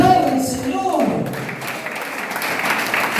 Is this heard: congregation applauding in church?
yes